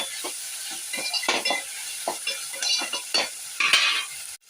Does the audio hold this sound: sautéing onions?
yes